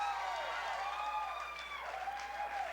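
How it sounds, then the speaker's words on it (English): A studio audience on a 2001 late-night talk show applauds steadily, a continuous wash of scattered, unrhythmic clapping at moderate distance with no one speaking. "you notice how they clapped their hands?"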